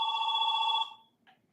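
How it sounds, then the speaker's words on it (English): A telephone bell rings in one steady electronic trill lasting under a second, then stops, followed by a faint brief blip. "Phone."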